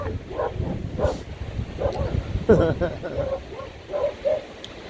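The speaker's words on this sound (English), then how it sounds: "There's a doggy." A dog, likely one of the collies on a woodland walk, gives a few short barks and yips at moderate distance over wind noise on the microphone, with a person talking.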